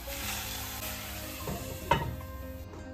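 Japanese pancake batter sizzles in a covered dry frying pan after a drop or two of water, a steady close frying hiss with a brief sharper crackle near the end and no talk.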